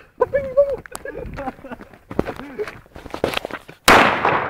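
A small firecracker bangs loudly at the end, a sharp close burst with a crackling tail, after people talk and fiddle with fireworks outdoors.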